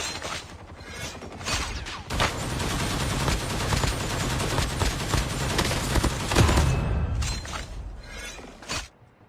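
Rapid gunfire in the mobile shooter Call of Duty Mobile Battle Royale, dense bursts of automatic shots and impacts rattling continuously for several seconds, loud and close, then trailing into scattered single shots.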